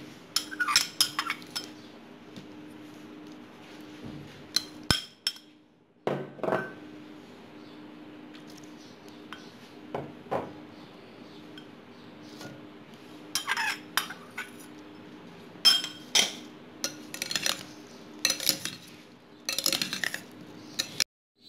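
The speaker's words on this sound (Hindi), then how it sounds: "सबसे पहले हम अपने सारे फल मिक्स कर लेंगे।" Chopped fruits mixed in a bowl for a custard fruit trifle: irregular bursts of spoon clinks and scrapes against the dish, separated by quiet pauses, close and moderately loud over a faint background hum.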